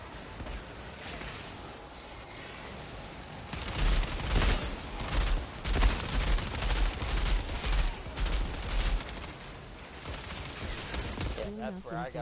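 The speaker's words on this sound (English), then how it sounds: "There's an enemy right fucking there shooting me" Enemy gunfire in the Outriders video game, heard as sustained rapid shooting and blasts that swell after a quieter start and continue to the end, mixed with game effects and someone talking over it.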